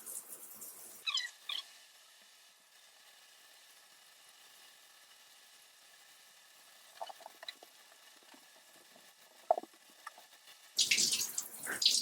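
Running water rinses shampoo out of 2b/2c curly, low-porosity hair. A short splashing burst comes at the start and another at the end, with mostly quiet, faint dripping in between.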